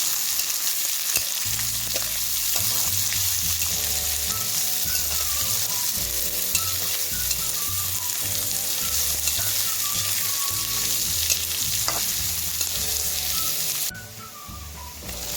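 Chopped onions sizzle steadily in hot oil in a pan in a village kitchen, a constant loud frying hiss with occasional scraping stirs, while background music plays throughout.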